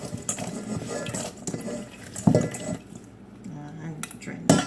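Water drained from a cooking pot into a kitchen sink while making egg rolls, a splashing, gurgling pour mixed with clinks of dishes and utensils, with a voice talking faintly at times.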